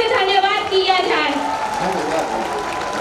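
A crowd claps at a political rally with a politician, dense continuous applause filling the space while a voice carries over the top through a loudspeaker.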